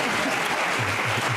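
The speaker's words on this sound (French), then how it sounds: "Et là, pourquoi ils applaudissent?" Loud audience applause at a public event, dense continuous clapping over a brief moment, close and full with crowd noise blended in.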